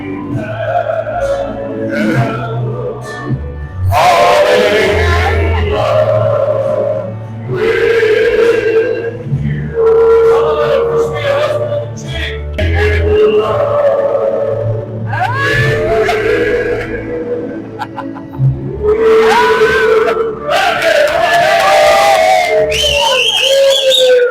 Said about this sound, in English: What a big crowd we got